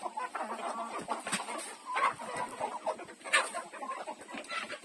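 Several chickens cluck and murmur close by in a family's yard, soft irregular calls overlapping in quick bursts with no talk.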